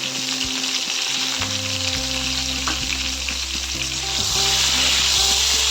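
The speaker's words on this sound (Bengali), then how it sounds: "হালকা ভেজে দেবো বেশি ভাজবো না" Eggplant pieces sizzle steadily in hot oil while being lightly fried for an eggplant and hilsa fish curry, a continuous close frying hiss with no talking.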